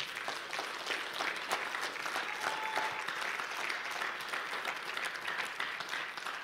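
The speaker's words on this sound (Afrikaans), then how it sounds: "wil jy nie die Here hartelike hande klap gee vanmôre nie" A church congregation gives the Lord a hearty round of applause during a morning service, a steady wash of many hands clapping throughout with no break.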